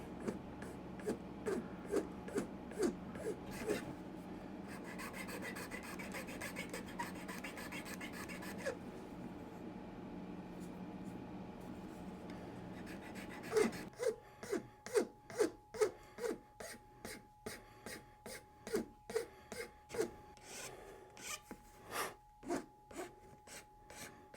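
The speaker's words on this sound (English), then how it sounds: "so now we're going to file it a little bit and sand on it" Steady rasping strokes of a file on a Custombilt tobacco pipe being restored, slow and rhythmic, followed by louder, more evenly spaced sanding strokes; close, no talking.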